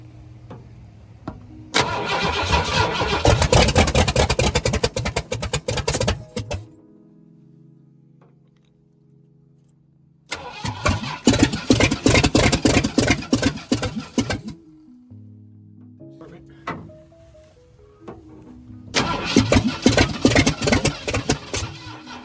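A party barge boat engine cranks three times with loud rapid starter churning, separated by quieter pauses with faint idle hum and a bird, and no speech.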